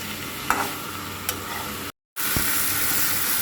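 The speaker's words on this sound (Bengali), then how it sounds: "এখন আমি মাছ আর শাকটা ভালো মতো নেড়ে ছেড়ে পানি দিয়ে দেব" Fish and water spinach sizzle in a pan with a steady bright hiss, marked by a few sharp clicks of stirring and a brief dropout partway through.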